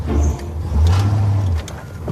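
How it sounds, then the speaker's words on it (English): A car engine revs loudly in two sustained low pushes as the driver tries to pull away with the parking brake still engaged, close by, no one speaking. "Shelby is trying to start with the parking brake on"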